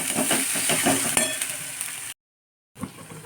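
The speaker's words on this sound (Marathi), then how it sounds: "मसाला आपण असं तेल सुटेपर्यंत भाजून घेतला आहे त्याच्यात टमॅटो घालून घेऊया" Masala for a village-style chicken curry, roasted until the oil separates, sizzling loudly in hot oil as tomato is added and stirred, a dense close crackle that cuts out briefly before resuming.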